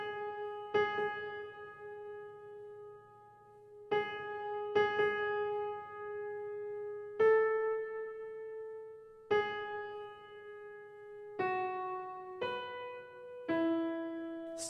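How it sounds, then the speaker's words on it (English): A solo piano picks out the slow, simple melody of Beethoven's Moonlight Sonata first movement, single sustained notes struck one at a time with long decays, quiet and unaccompanied. "if we just play the melody all sounds like this"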